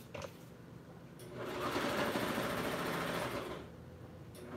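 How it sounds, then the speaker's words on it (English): A sewing machine stitches an apron seam joining two fabric pieces, a soft rapid mechanical whirring that starts after a few light clicks, runs steadily for about two seconds, then stops. "we put the seam in and sewed the two pieces together"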